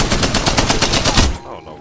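Rapid automatic gunfire in the shooter game Apex Legends, a loud close burst of evenly spaced shots that stops abruptly before the end.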